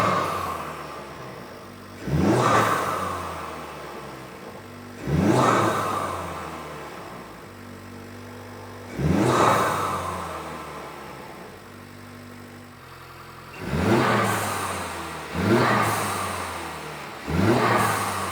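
A Honda Civic Type R FL5 with a Turbosmart Kompact blow-off valve revs in five sharp blips, each rising quickly and falling away into a low idle, heard close and loud with no talking.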